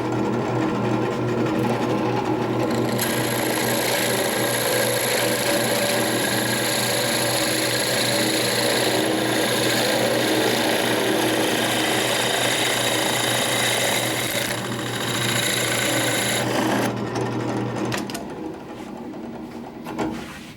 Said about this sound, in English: make sure that my clamp is tight on the piece of wood, and we should be ready to drill